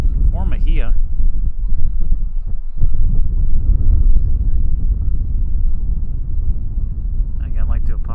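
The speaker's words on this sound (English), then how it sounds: "Sounds like the wind is cutting through." Wind gusts buffet a broadcast microphone at an outdoor collegiate summer baseball game, a continuous low, muffled rumble under brief bursts of voices at the start and end.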